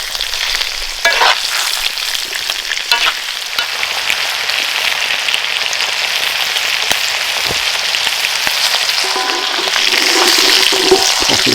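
Steak pressed with garlic and rosemary sizzles loudly in a pan over an outdoor woodland camp stove, a dense, steady hiss like heavy rain with a few scraping touches and crackles near the start and end.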